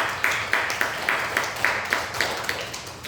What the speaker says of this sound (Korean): 우리 박수로 축하하고